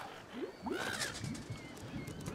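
A bird coos and warbles amid a dense, noisy game soundscape in Wolfenstein II: The New Colossus; several low, soft cooing phrases repeat under the steady din.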